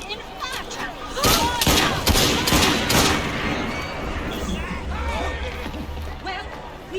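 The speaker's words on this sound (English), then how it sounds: "Fire a volley! Open fire! Shoot now!" Gunfire volley in Assassin's Creed Syndicate, a burst of several loud, closely spaced shots, then scattered fighting noise with shouting voices throughout.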